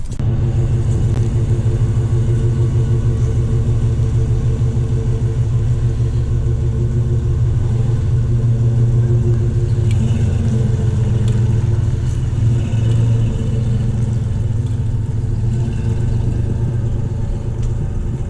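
A Freightliner Sport Chassis truck on 26-inch wheels pulls away, its deep engine rumble and low drone steady and loud throughout, with no voices over it.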